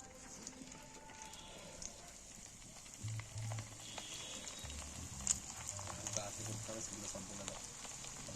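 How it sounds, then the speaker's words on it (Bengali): Fish balls dusted in flour sizzle and crackle softly in hot oil over low heat, a faint steady frying hiss with occasional pops and low background noise. "তেলের মধ্যে ছেড়ে দিচ্ছি বলগুলোকে"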